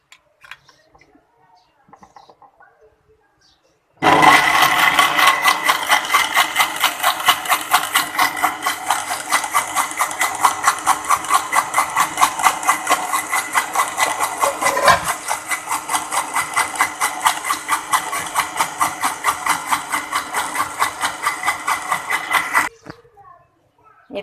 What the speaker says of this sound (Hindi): और अब मैं इसमें इसे ब्लेंड कर लूँगी।